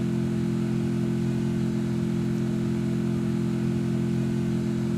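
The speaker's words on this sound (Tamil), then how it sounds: "இப்போ நம்ம ஜீப்பில் ஏறியாச்சு, கிளம்பலாம்." A jeep engine runs steadily and loud throughout, a constant low drone with no pauses as the vehicle pulls away and drives on, no voices present.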